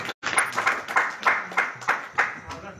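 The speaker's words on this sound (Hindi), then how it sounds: "आपकी घनघोर तालियां आमंत्रित करें" Applause from an audience at a Hindi kavi sammelan poetry gathering greets a poet taking the stage, a steady, moderately loud patter of many hands, with a few louder bursts through the clip.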